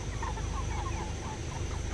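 Farm chickens clucking, many birds from a large flock whose short clucks and calls overlap continuously at a moderate distance over a low background hum.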